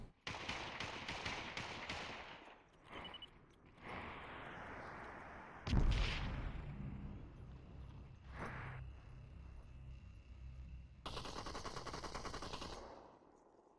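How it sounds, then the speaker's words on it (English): Gunfire traded in the VR battle royale game Population: ONE, with rapid bursts of automatic shots, a heavy impact near the middle and further volleys of fire at moderate distance. "Some shots back and forth here"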